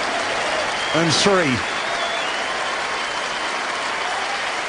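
A cricket crowd at a South Africa vs England Test match applauds steadily as Hashim Amla reaches his triple century, a dense, even wash of clapping with a commentator speaking briefly over it.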